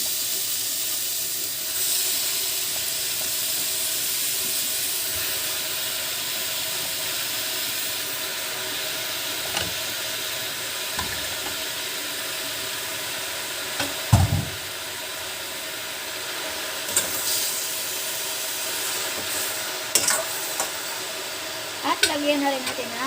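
Oyster mushrooms sautéing in a pan give a steady, even sizzle and hiss throughout, broken by a few scattered clanks and stirring scrapes near the end, with no talking.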